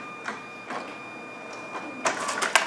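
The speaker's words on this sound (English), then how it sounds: "The printer will take the card and will begin cleaning the rollers within the card printer." An NXTElite card printer takes in a cleaning card and runs its rollers, producing soft mechanical whirs and clicks that build into louder, busier motor noise near the end.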